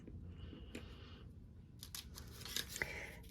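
A few soft, crisp snips of scissors cutting paper close by, with quiet pauses between the cuts.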